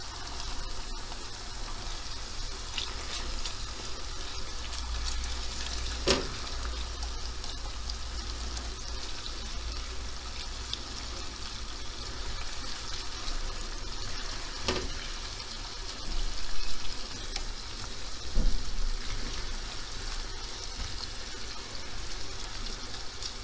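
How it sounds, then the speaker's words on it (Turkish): Onions with pepper paste softening in a pan over the stove, a continuous low sizzle and crackle close up, steady throughout with a few sharper clinks or pops. "Soğanlarımızı şöyle hafif sararıncaya kadar soteleyeceğiz"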